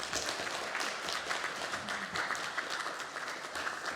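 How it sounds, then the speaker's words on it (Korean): Church congregation applauding at an Adventist church awards presentation, steady dense clapping throughout with no speech over it. "박수."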